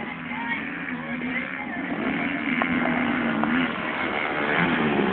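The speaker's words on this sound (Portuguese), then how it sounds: "Lá vem moto, lá vem moto." A motocross motorcycle engine drones steadily as it approaches, a continuous muffled roar that builds slightly in loudness, with faint voices in the background.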